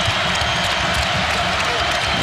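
A basketball arena crowd at a Wisconsin vs. Marquette game applauds and cheers in a steady, moderately loud wash of clapping while a commentator talks over it.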